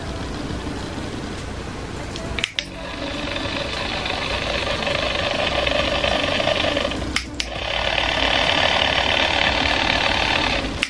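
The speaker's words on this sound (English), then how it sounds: "I will be using my Vanity Planet spin brush on my face" Steady whirring hum of a Vanity Planet electric spin brush running against a face, heard close and loud with two brief interruptions, no talk over it.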